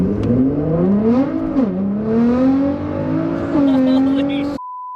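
Tuned Nissan GT-R with full bolt-ons and an E85 tune accelerating hard on a test drive, the engine note climbing through gears with one shift dip, loud and close inside the car, a voice briefly over it.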